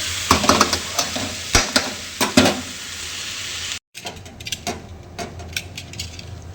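Okra frying in a pan, a close steady sizzle broken by sharp metallic clinks of a spatula, with a brief cut to quieter frying and lighter scrapes.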